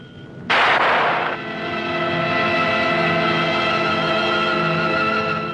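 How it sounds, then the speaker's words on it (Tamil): A single sharp, loud gunshot in a Tamil film scene, a burst of noise followed by a sustained ringing hum that lingers for several seconds. "துப்பாக்கி சத்தம் கேட்டது நீங்க சுட்டீங்களா"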